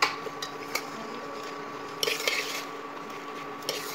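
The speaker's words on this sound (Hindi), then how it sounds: "सबको अच्छे से मिक्स कर देंगे।" Chana dal being stirred with salt, turmeric and spices in a pan, giving a few soft spoon scrapes and clinks against the metal over a quiet, steady background hum.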